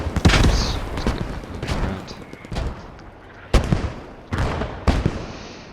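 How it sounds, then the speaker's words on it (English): Mortar rounds exploding in a multiplayer video game match, heavy booming blasts scattered across the scene with several sharp loud impacts near the end amid a dense rumbling battlefield. "And here comes the mortars."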